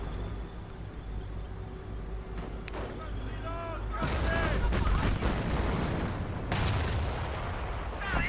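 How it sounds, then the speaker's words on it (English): Hummel self-propelled artillery firing in a World War II strategy game, a series of loud booming shots and crackling impacts over battle ambience, with a voice commenting in the background. "Looks like we're seeing more artillery fire from the Hummel."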